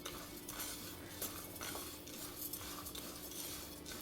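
Oats and grated coconut roasted together in a pan for puttu, a utensil scraping and stirring with faint clinks against the metal over a quiet, continuous background, no voices.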